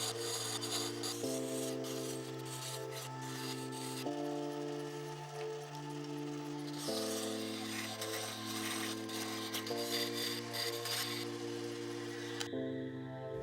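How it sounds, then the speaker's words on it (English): Wood turning gouges cutting finger grooves into a spinning wooden handle on a lathe, a steady scraping rasp over a constant motor hum whose pitch shifts in stages. "I'll use my wood turning gouges to turn the wooden finger grooves on the handle"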